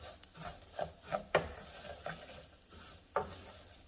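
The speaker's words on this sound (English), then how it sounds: "I'm going to add the onion and saute that for about a minute or so" Onion sautéing with golden toasted rice in cooking oil for carne guisada, heard as a soft, steady background sizzle broken by a few sharp scraping stirs of a spoon against the pan, fairly close and with no voices.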